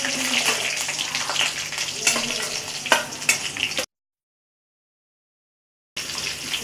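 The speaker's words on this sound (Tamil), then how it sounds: "இந்த கொஞ்ச நேரம் இந்த எண்ணெயில வதங்கட்டும்." Plantain slices sizzle and crackle in hot oil, with scattered pops and stirring scrapes, broken by a stretch of total silence before the frying resumes.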